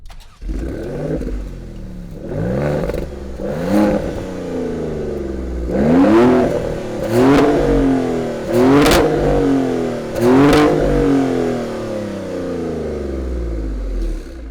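A Maserati Grecale Trofeo, a 530 hp sporty SUV with twin exhaust outlets, revs hard about six times in a row. Each loud rise climbs in pitch and drops back to a throaty idle, heard up close with no talk.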